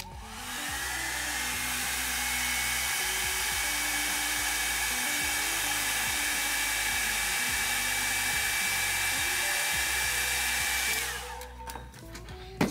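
A hair dryer blows steadily over an alcohol and acrylic ink painting, a loud continuous whooshing hum that runs for about ten seconds before cutting off, with a few handling clicks at the end.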